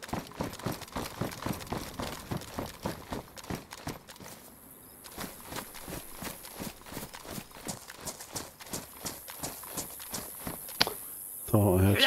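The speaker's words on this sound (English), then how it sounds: "Thought I heard some footsteps." Rapid, steady footsteps in the DayZ video game, a regular near thudding rhythm that runs almost continuously, with a short pause partway through and a brief louder burst near the end.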